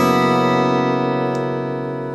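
A single guitar chord, struck once and left ringing with shimmering sustained tones that slowly fade, with a faint tap partway through.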